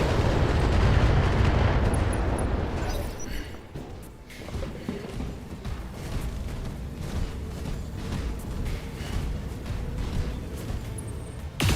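Missile explosions in Battletech with BattleMechs: a heavy, low rumbling blast dominates the first few seconds, then decays into a continuing crackle of smaller impacts and thuds with a final burst at the very end.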